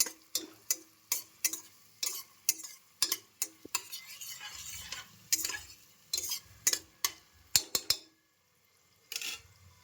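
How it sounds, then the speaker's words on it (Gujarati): Onions being sautéed in melted butter for pav bhaji, heard as a quick run of sharp spoon clicks and scrapes against the pan over a faint sizzle, with a short quiet gap near the end. "પછી આપણે એમાં નાખીશું ડુંગળીને આપણે શેકી લઈશું મસ્ત."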